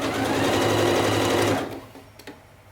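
A sewing machine stitches a built-up collar neckline in a fast, loud, steady whir that stops abruptly after about a second and a half, followed by a couple of faint clicks.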